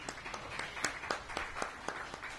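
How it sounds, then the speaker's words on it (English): A small audience at a buyouts summit claps, the scattered, distinct claps sounding thin and fairly distant with no cheering. "come on, let's give a round of applause"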